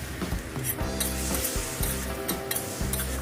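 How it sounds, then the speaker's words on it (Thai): Garlic chive flowers are stir-fried in a pan with oyster sauce, sugar and light soy sauce. A close, continuous sizzle is broken by repeated scraping strokes of a spatula against the pan. "ผัดต่อเล็กน้อยนะคะเพื่อให้เข้ากันค่ะ"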